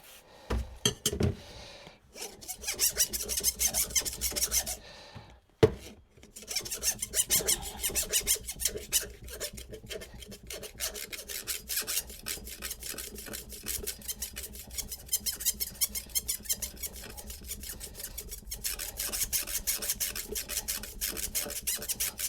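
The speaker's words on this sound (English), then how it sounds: "I'll just skip it back onto the least coarse stone" A hand plane blade sharpened on a fine stone: after a few clanks and a brief pause, rapid close scraping strokes settle into a steady gritty rhythm and continue to the end.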